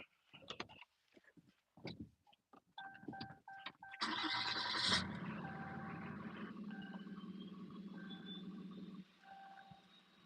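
A truck engine cranking over after a few clicks and knocks, then settling into a steady, moderately loud idle that runs for several seconds before fading.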